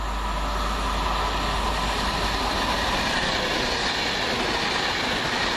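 A Virgin Trains service from Wolverhampton to London Euston roars steadily through Adderley Park station, a loud, continuous broadband rush of wheels and rail noise that stays near and constant throughout.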